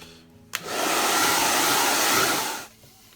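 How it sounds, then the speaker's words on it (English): A hairdryer switches on with a click and blows steadily for about two seconds before cutting off. "time for the hairdryer"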